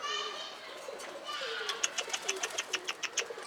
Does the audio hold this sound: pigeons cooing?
yes